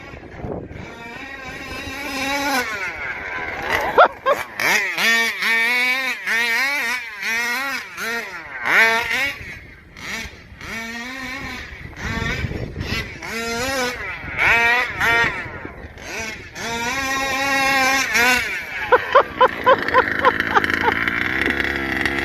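Small ported 30.5 engine on a light vehicle revs hard in repeated rising and falling bursts, loud and close, through a half-throttle takeoff, with tires breaking loose and the clutch locking, and occasional wind buffeting.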